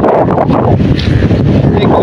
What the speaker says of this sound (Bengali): ঘূর্ণিঝড়ে আসার বাতাস